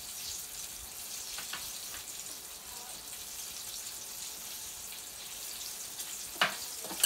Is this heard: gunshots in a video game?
no